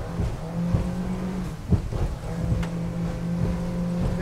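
A Quintrex aluminium motorboat engine drones at about 4,500 revs with a steady tone under wind and water noise, and a few thumps come as the hull hits waves.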